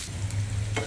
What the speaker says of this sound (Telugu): దీంట్లోకి మనము ఎండుమిరపకాయలు, కరివేపాకు, పోపు దినుసులు అయితే వేసేస్తున్నాము. ఇది లైట్గా ఒక 1 మినిట్ ఫ్రై అయితే సరిపోతుంది.